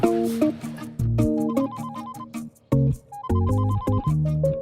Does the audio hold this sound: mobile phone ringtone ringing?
yes